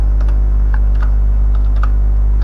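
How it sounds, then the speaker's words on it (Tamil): Computer keyboard being typed on at a steady irregular pace while entering HTML code, crisp clicks close by over a strong low electrical hum. "டைப் பண்ணுறேன்."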